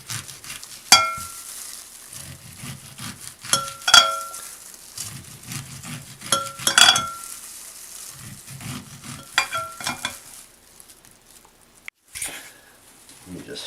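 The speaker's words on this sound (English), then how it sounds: "Let me just finish shaving this corn off." A kitchen knife shaves kernels off an ear of corn in short scraping bursts, each followed by sharp clicks, repeating every few seconds, moderately close, while a chef talks over it.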